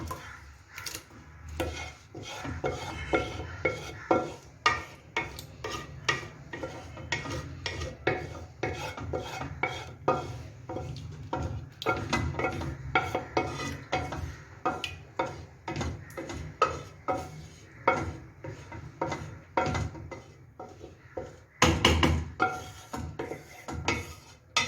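Ground spinach being stirred into fried mutton in a pot for palak gosht, a steady run of scraping, rasping spoon strokes against the metal pot, close and continuous, with a louder clatter near the end.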